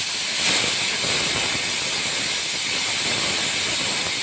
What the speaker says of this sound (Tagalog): Pasingawin muna natin siya. Huwag muna natin buksan.